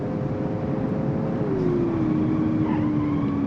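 Herbie, the Volkswagen Beetle, accelerating hard from a standstill in BeamNG.drive, a steady engine drone whose whining tone shifts down midway as the car pulls away, with no talking.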